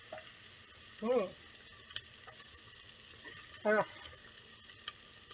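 Butter and onions sizzle in a pan for pumpkin soup, a steady soft fry hiss running throughout with two brief louder tonal clatters and a few faint ticks, no talk.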